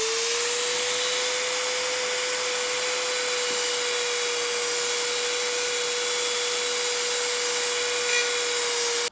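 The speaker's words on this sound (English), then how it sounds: "I'm going to run the sanding drum right along this surface" A Dremel rotary tool with a sanding drum whines at a steady high pitch against a steel pruning shear blade, running continuously and close up, with a faint grinding texture underneath.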